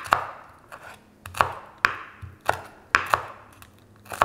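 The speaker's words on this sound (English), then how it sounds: "finely slice them." A knife slices jalapenos finely on a cutting board in sharp, close, evenly paced chops, roughly a dozen strokes in a loose rhythm, each with a brief thud, with no speech.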